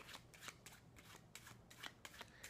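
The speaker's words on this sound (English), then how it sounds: "They're cut back into the pack, and the cards can be shuffled." A deck of playing cards being shuffled in a card magic routine, a quick series of crisp riffling bursts repeating rhythmically, close and fairly quiet with no talk.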